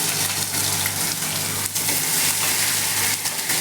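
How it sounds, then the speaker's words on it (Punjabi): Ginger and onion sizzle loudly in hot oil with garlic for a dal tadka, a continuous close-up frying hiss with occasional stirring bursts and no talking. "ਹੁਣ ਇਹਦੇ ਵਿੱਚ ਆਪਾਂ ਅਦਰਕ ਔਰ ਪਿਆਜ਼ ਪਾ ਦੇਵਾਂਗੇ"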